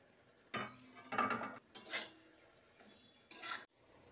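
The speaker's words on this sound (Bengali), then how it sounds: "এবার ঢাকনাটা তুলে নিচ্ছি।" A metal lid lifted off a pan of shapla (water lily stem) and prawn curry on a gas stove, giving a few short clinking, scraping clatters with quiet gaps between them.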